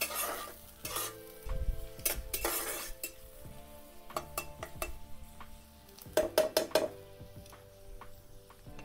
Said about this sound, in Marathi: कांदा पण चांगला परतून घेते.